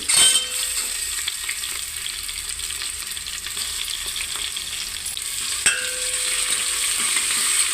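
Ginger-garlic paste fries in a pan for bisibele bath, a steady hiss of sizzling oil running throughout, with a sharp clink of a utensil near the end.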